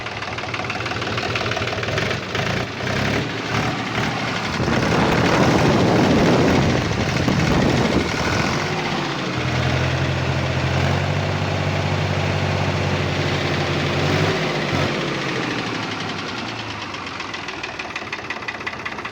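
Mahindra B 275 tractor's diesel engine runs steadily throughout, a rough knocking idle with a strong low hum that grows louder and steadier midway, heard up close with no talk.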